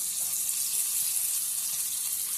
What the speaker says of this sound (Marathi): तर आता हे ना मी परतून घेते